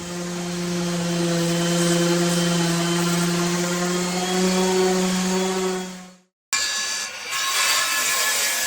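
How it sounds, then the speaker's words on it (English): A power sander on wood veneer drones steadily and loudly up close, cuts out briefly near the end, then starts up again. "So for the most part I'm going to sand"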